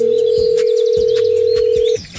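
Steady telephone dial tone as a call is placed, a sustained even hum lasting about two seconds and then cutting off, with faint background noise behind it.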